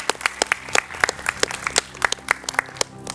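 An audience applauds at a school event, with quick, uneven rounds of hand claps that rise and fall across a few seconds, fairly close and loud.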